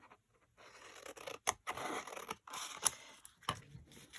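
Scissors cutting a sheet of paper in half for a junk journal envelope pocket, a close, quiet series of crisp snips and slicing strokes in an otherwise silent room.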